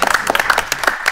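A business-conference audience breaks into loud, dense applause, many hands clapping rapidly together for a short burst with no talking over it.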